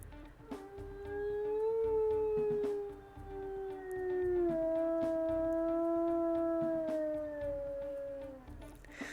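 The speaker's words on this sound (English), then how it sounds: "He got one of the longer howls for sure." A single long, soft wolf howl rises and holds, pausing briefly before a second sustained howl that slowly trails off, from a male wolf in the video game WolfQuest Anniversary Edition.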